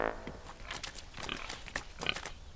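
Cartoon pigs on a farm, muddy and happy, grunt and oink in a string of short snorts over a busy background, fairly close and moderately loud.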